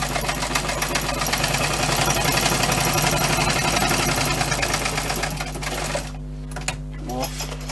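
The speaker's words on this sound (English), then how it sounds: "I just come back with my double stitch" A sewing machine double stitching a bushcraft water bottle pouch, running in a fast continuous mechanical rattle for several seconds before stopping, followed by a few small handling clicks.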